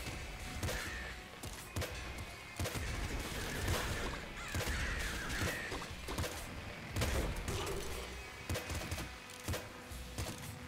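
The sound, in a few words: explosions in the video game Nuclear Throne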